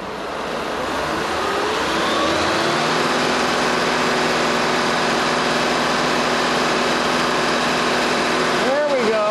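Mercedes 560SL engine being raised to a higher, steady RPM, a loud continuous hum that climbs and then holds level, close by, with a brief wobble near the end.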